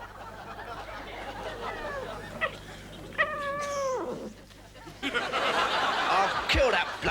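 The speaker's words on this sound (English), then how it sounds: "I'll kill that bloody cat." A cat meows and caterwauls in several drawn-out, wavering yowls over about seven seconds, heard close against a steady low hum, with laughter-like bursts and background noise from a British comedy television programme.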